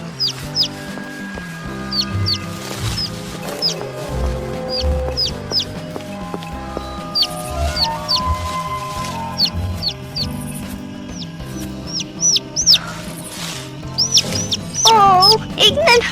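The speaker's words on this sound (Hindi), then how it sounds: "ओह, एक नन्हा सा पंछी।" Small bird chirps repeatedly in short, high chirps scattered across the scene, heard over background music and other animated-story sounds.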